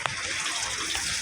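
Tap water begins running at home, a bright gushing splash into a basin or bucket, steady and fairly loud and close, with no talk over it.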